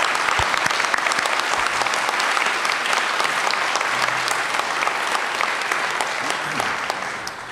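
A crowd applauds candidates at a 2009 Alabama gubernatorial forum in Springville, Alabama, a full, steady roar of clapping that holds for several seconds and tapers slightly at the close.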